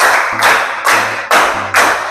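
Hands clap out an even pattern of about five sharp, loud, close claps, spaced roughly half a second apart, in a coaching session on academic supervision.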